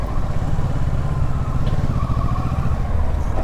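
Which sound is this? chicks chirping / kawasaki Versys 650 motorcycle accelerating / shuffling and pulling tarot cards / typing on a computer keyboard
kawasaki Versys 650 motorcycle accelerating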